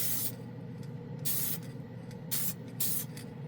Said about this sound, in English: let's go ahead and spray it on this primered spoon